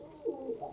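Pigeons coo softly at a dovecote, a few low rolling calls in quick succession, faint and somewhat distant.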